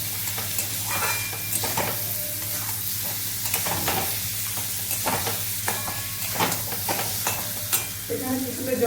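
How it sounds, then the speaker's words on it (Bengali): Fried eggs stir in spice masala for egg curry, a steady sizzle in the pan with scraping stirs and clinks throughout, near and continuous. "এবার 1 মিনিট কষে নেব।"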